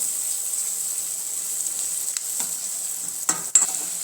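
Bitter gourd peel curry with lemon juice and jaggery being stirred in a pan, a steady soft sizzle with a few scraping clicks of the spoon near the end.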